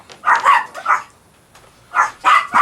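A dog barks indoors in two short bursts of sharp, loud barks, with a pause between the groups.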